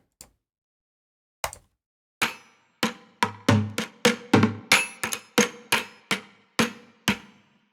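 A plastic bucket is struck by hand as homemade percussion: a lone faint tap, one sharper hit, then a steady run of about a dozen dull, resonant thumps that come closer together and then spread out again.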